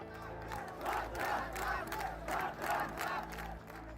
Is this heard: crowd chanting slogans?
yes